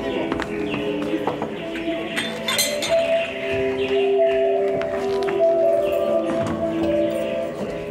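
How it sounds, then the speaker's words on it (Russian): Dishes and cups clink and knock continuously as tableware is carried in for a samovar tea in a courtyard, with light taps and clatter layered over background voices and movement. "Дети, а вы посуду тащите"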